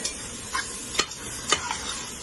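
A spoon stirs mushroom biryani masala in a pot with green chillies, giving a few distinct scrapes and clinks at an uneven pace over a soft, continuous sizzle, close by with no talking.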